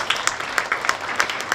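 Brisk applause from a young audience, dense clapping with rhythmic bursts of louder claps, close and energetic throughout.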